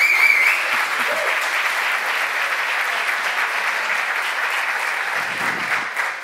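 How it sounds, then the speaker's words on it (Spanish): Sustained applause fills the hall at the closing of Extremadura Digital Day 2023 as the crowd claps for the event volunteers, a broad, even roar of hands lasting several seconds that tapers slightly at the end. "Os voy a pedir un aplauso para los chicos de negro,"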